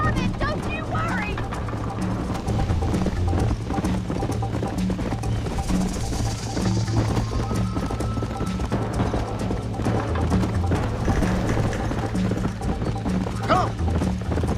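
Horse galloping in the Red Dead Redemption video game, a steady rhythmic clip-clop of hooves running throughout under a busy game soundtrack, with occasional voices and a brief whinny.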